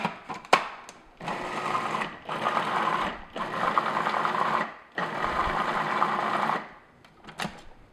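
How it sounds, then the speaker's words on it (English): A food processor whirs through cream cheese brownie batter in loud bursts of a few seconds each, stopping and restarting several times, close up with small clicks and scrapes between pulses. "Food processor makes really quick work of that."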